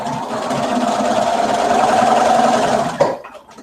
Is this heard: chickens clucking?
no